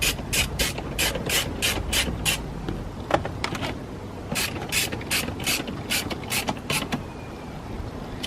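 A ratchet drives a screw while fitting a Bluetooth unit in a Lexus SC430, giving close, loud, rapid clicking strokes in steady bursts with a brief pause midway and no talk.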